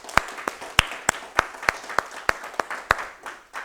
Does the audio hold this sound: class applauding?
yes